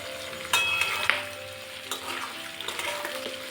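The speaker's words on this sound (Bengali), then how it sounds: "পেঁয়াজ আর ক্যাপসিকাম ভাজতে ভাজতে দিয়ে দিচ্ছি লবণ।" Onion and capsicum frying in a pan for chili soybean, a steady close sizzle with a few sharp scraping stirs and utensil clinks, no voices.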